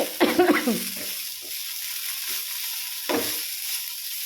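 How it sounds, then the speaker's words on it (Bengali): Taro stolons frying in a pan on a gas stove give a soft, steady sizzle at close range, with brief clattering stir bursts at the start and again near the end. "এখানে আমি লতি ভাজা বসিয়েছি"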